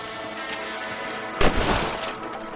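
A loud rifle gunshot burst while shooting varmints in the video game Red Dead Redemption cracks out sharply midway, its echo trailing off over a steady low background hum.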